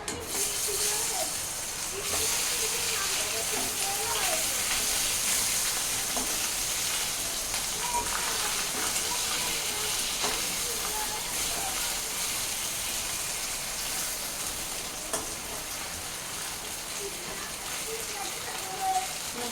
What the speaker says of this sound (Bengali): এখন আমি মাছের মাথাগুলো ভালো করে ভেজে নেব